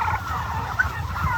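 Big turkeys on an Iowa turkey farm gobble together, a dense, warbling chorus of overlapping calls from a large flock with one brief sharper call standing out.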